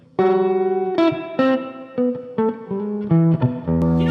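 A reverb-soaked electric guitar played through a 1961 Fender Champ tube amp plays a short sequence of ringing, slightly overdriven notes, each sustaining before the next, loud and close.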